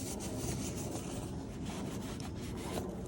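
A towel rubs excess oil off plastic parts during an oil change on a 2021 Winnebago Travato K built on a RAM Promaster 3500, making a steady, close scrubbing and rubbing sound that runs without a break and with no voices.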